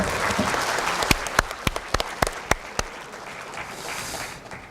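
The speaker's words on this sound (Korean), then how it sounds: "저 박수 한번 쳐주십시다." An audience in a university lecture hall gives a dense round of applause with several sharp, distinct claps standing out near the middle, then tapers off.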